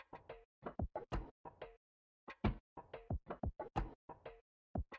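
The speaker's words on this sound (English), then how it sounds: "And then for a bit of percussion, I just found this percussion loop" A found percussion loop for a sample-based beat, made of dry knock-like hits in a loose, syncopated rhythm with short gaps, close and clear, with no talking over it.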